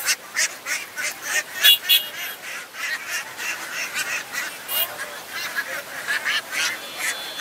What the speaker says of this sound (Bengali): এদিকে অনেক হাঁস আছে